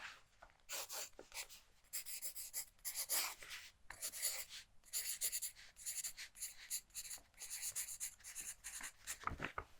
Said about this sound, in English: I'll just write your name on here